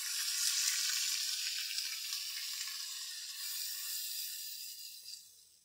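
Onion paste frying in ghee, a steady bright sizzle close to the pan that eases slightly toward the end, with no talking.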